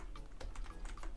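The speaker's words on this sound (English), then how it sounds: "we can type the same password and login information" Quick, light keystrokes on a computer keyboard as a password is typed, an uneven run of close clicks over about a second with no voices.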